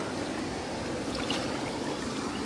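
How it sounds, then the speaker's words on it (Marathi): Water runs steadily down a man-made channel lined with cut laterite stone blocks at Malgund, Ratnagiri, making a continuous close, even rushing wash with no voices. "पाणी इथे खाली वाहतंय"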